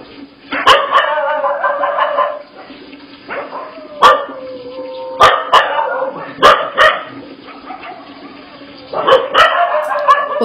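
A dog barks outside a house in repeated rapid volleys, loud and near, with sharp clicks and a steady electrical hum beneath.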